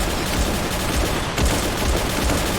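Rapid, continuous gunfire from Bullet Angel, a shooting game in mummy mode, dense and loud throughout with a brief dip before resuming.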